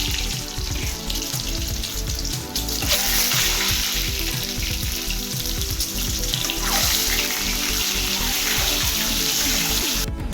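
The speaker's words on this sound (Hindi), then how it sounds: "बर्तन अंडा भाजिबा।" Egg frying in hot oil with turmeric in a kadhai, a steady loud sizzle and crackle running throughout, with faint clinks and stirring sounds and no talking.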